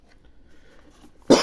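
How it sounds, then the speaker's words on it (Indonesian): A single sharp cough bursts out at the very end, near and loud, after a second of quiet room noise from someone reviewing an Anbernic RG353P handheld. "Maaf batuk."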